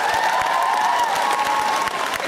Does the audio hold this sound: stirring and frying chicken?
no